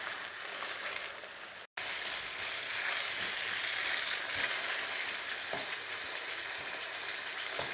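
Garlic ginger paste fries in a pan with cinnamon sticks and lightly crushed black cardamom over medium heat for chicken korma, a loud close sizzle broken by one brief silent gap, then steady crackling with occasional stirring scrapes.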